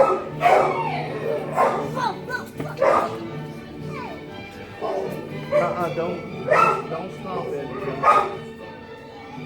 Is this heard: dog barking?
yes